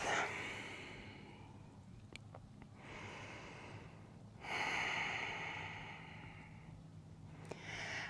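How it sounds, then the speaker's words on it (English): Quiet, regular breaths through the nose during seated yoga, with slow alternating inhales and exhales close to the microphone and no talk. "A couple rounds of regular breath."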